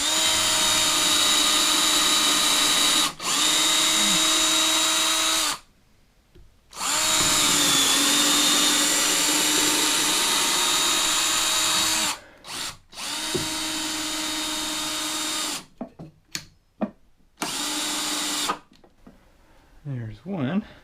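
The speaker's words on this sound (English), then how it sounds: "I'm going to get this into position here, and then just put a couple of screws in." A power drill drives screws to mount a loft ladder in a tiny house build, sounding in several long, loud, close whining runs separated by brief pauses and short bursts toward the end.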